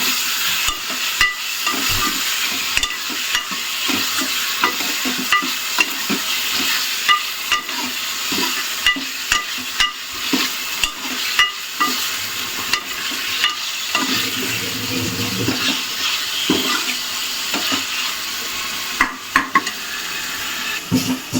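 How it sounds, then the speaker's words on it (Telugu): Chicken pieces sizzle and fry in curry in a pan while a spoon scrapes and stirs repeatedly, steady frying hiss with intermittent clinks, close and loud, no talk. "ఇక్కడైతే కర్రీలో చికెన్ వేసేస్తున్నా"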